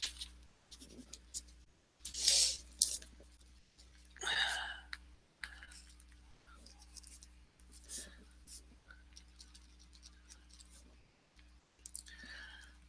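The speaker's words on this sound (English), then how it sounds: "I'm writing it down" Pen scratching on paper while jotting an item onto a list during a live stream, soft intermittent strokes with a few louder bursts and clicks over a steady low hum, with occasional whispery voice.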